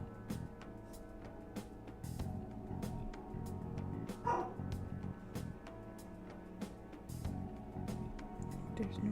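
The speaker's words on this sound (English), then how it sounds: "Why is the dog barking?" A dog barks within the Persona video game, with repeated short yaps and a whimper scattered over a steady game music and ambience bed, close and clear but not loud.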